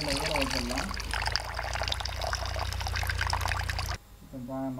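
Water pours steadily into a vessel of rice set to soak for a sweet pudding, a continuous splashing pour that stops abruptly near the end, with someone speaking over it.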